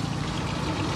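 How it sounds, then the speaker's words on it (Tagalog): Water pours steadily into a cooking pot for boiling vegetables, a continuous close splashing stream with no voices over it. "sinalang na rin natin yung ating tubig para panggulay"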